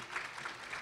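Scattered audience clapping in a conference hall at a small business summit on access to finance, a steady moderate patter of hands for under a second with no voices over it.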